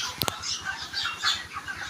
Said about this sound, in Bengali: কত সুন্দরভাবে গরমে ব্রয়লারগুলো কি লাগাচ্ছে দেখেন।